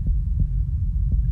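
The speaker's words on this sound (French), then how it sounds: "Je dois attendre que mes battements de cœur se calment." A heavy low heartbeat throbs in the Pizza Delivery video game, dull thumps spaced irregularly over a loud, constant deep hum, close and dominant.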